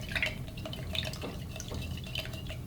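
Granular sugar poured into water in a glass mason jar, with small patters and glassy clinks and drips going on steadily at close range, no voices.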